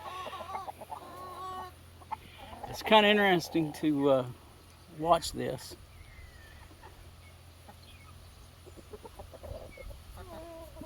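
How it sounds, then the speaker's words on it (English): Chickens on a farm cluck and squawk as a hen chases a small rooster, with several loud bursts of agitated calls over quieter background clucking and someone talking. "Yeah, see, that hen just chased that little rooster off."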